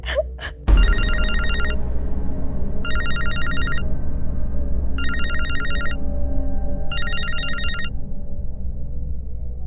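A telephone rings unanswered, four evenly spaced bursts of trilling electronic ringtone over a steady low hum, loud and close with no one speaking.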